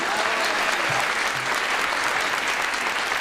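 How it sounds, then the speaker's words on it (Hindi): A full hall audience claps together at a poetry and comedy gathering, a thick, continuous roar of applause that holds evenly from start to finish. "मैं चाहता हूँ कि पूरा सदन एक बार ताली बजाए"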